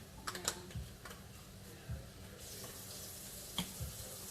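Two cups of water poured for cooking in a home kitchen, a soft steady trickle with a few light clinks and taps of a cup, close and fairly quiet with no one speaking.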